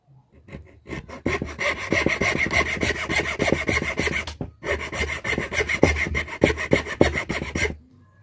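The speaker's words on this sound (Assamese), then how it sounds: "এতিয়া আমি এক্স এখন ল'ম এনেকুৱা লৈ এইফালে অলপ কাটি দিম" A blade saws back and forth through bamboo in fast, rasping strokes, loud and close, with one brief pause partway through before the cutting resumes and then stops.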